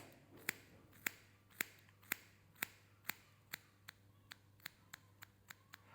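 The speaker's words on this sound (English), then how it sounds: "I'm going to point cut it to get the hair off" Scissors point-cutting hair while trimming a wolf-cut pixie style, a series of about thirteen crisp, close snips at a steady rhythm that speeds up slightly toward the end, quiet and alone with no talking.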